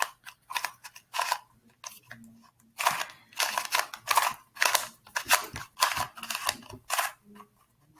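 Outer layers of a QiYi Qifa S Square-1 puzzle turn with scratchy, rasping bursts close up, repeated in quick irregular twists with brief pauses between.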